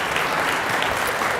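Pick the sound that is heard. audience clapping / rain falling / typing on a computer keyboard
audience clapping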